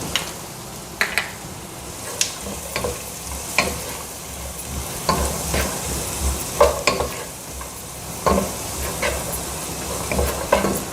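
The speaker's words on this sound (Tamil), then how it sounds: "கேரட், பட்டாணி, அது தக்காளி அப்படியே இருக்கட்டும்ங்க, இதெல்லாம் போட்டு வதக்கலாம்" Carrots, peas and tomato sizzle steadily in a pan while being sautéed, with frequent clicks and scrapes of a spoon stirring against the metal.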